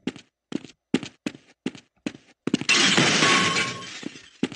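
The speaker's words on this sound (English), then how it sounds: "Here, break the glass," Glass shatters in Half-Life: Blue Shift, a loud crash with a lingering tinkling spray after several sharp, evenly spaced blows or footsteps.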